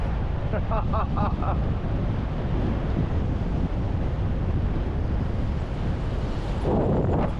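Strong wind buffeting a microphone while riding a Brompton folding bike fast in a quiet part of Japan, a steady loud roaring rumble throughout with brief fluttering gusts.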